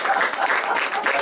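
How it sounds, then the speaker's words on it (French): Audience applause at a lively French press conference for the voice cast of Planes 2, a dense, steady wash of clapping heard close and continuous without breaks. "Moi je dis on applaudit."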